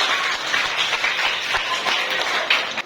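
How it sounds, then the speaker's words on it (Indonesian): A school class claps hands together in a classroom, a short burst of quick, uneven clapping from a small group, fairly close and loud. "Ya, tepuk tangan untuk kita."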